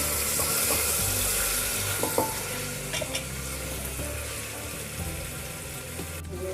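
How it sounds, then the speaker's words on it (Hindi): Whole spices, including dried red chilies, sizzle and fry over a low flame in a pan for veg biryani, a steady close crackle broken by a few soft stirring scrapes, with no one talking. "मसालों को अच्छे से हम भून लेंगे"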